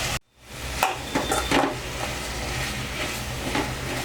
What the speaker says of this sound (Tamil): இந்த ஸ்டேஜில் இப்போ நம்ம வெட்டி வச்ச கோவக்காயை சேர்த்துக்கலாம்.